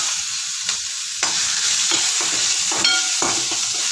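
Mustard seeds crackle and sizzle in hot oil, a bright continuous hiss with sharp popping bursts scattered throughout, no talking.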